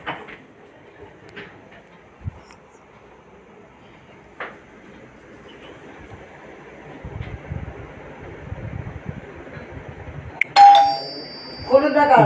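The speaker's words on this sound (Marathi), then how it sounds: "बेल बंद कर. बेल बंद." Electronic doorbell chime sounding indoors near the end, loud and sudden after a stretch of background noise and faint talk, with a second tone following.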